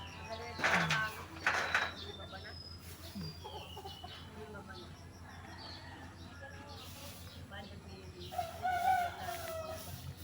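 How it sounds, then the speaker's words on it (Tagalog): A rooster crows in the distance amid outdoor farm ambience, with brief voices and other bird calls scattered through. "May manok pa."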